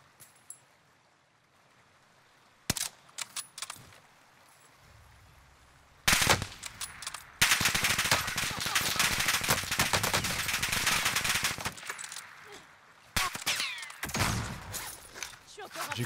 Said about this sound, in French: J'ai cru entendre une balle de derrière.